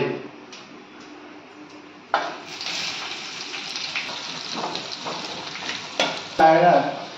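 Onion added to a pan of prepared ingredients for fried rice, bringing on a sudden rise in moderate frying sizzle with scattered ticks and scraping clicks, close by, after a quieter stretch and with no clear talk.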